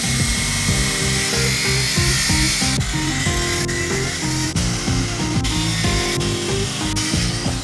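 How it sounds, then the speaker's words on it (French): A circular saw whines steadily through wood, its loud, continuous cutting tone running for several seconds with only slight shifts in pitch. "donc on va revenir à la scie circulaire."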